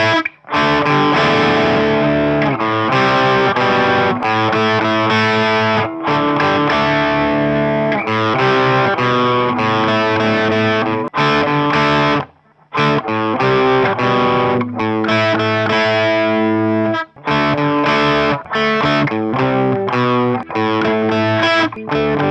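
A distorted electric guitar plays the second verse of a song, loud chugging chords with short pauses and brief gaps between phrases.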